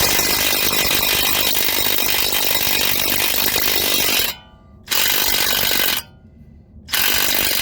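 Power tool spinning bolts off coilovers on a Buick, a loud continuous rattling, ratcheting whir close up, cutting out twice for short pauses before starting again.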